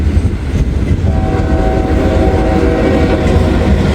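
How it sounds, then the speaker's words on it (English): A freight train passes loudly and close at a crossing in Hamilton, Ohio, rumbling heavily while its horn sounds a sustained blast over the steady rolling noise. "Here comes the train."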